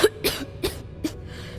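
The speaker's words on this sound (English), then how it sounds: "I've got this bad cough." A character in the video game Starfield coughs four times in separate, evenly spaced bursts, close and fairly loud, followed by a faint breathy tail and no talking.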